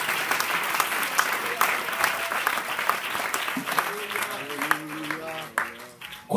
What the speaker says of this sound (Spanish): ese aplauso para Jesús